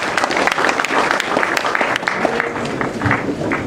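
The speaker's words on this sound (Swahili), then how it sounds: "Tuwapigie makofi tafadhali." An audience at a public lecture claps loudly, with dense, continuous applause from a large crowd and faint voices mixed in.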